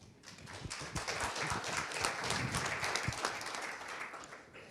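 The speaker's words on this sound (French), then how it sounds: "On peut l'applaudir aussi." Applause from a conference audience at a biodiversity round-table, fairly quiet and distant clapping that swells after a moment, holds steady and then eases off.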